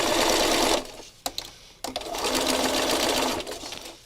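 A sewing machine stitches layered fabric without a walking foot while the top layer bunches, running in steady whirring bursts broken by short pauses where the presser foot is lifted.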